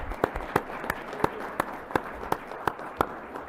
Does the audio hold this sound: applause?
yes